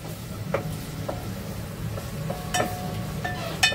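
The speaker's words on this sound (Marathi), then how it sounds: "तर आपल्याला मस्त असं कांदा आणि आलं लसणाची पेस्ट शिजवून घ्यायची." Onion and ginger-garlic paste fry in a pan with a low, continuous sizzle. Occasional spoon taps and scrapes punctuate it, moderately loud and close, and nobody speaks.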